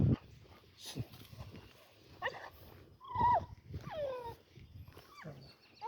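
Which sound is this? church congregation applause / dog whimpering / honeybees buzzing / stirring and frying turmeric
dog whimpering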